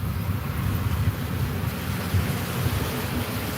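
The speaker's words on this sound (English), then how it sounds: "it's pouring down rain today" Heavy rain pours down in a steady, dense wash of noise with a low rumble, loud and continuous throughout, with no voices.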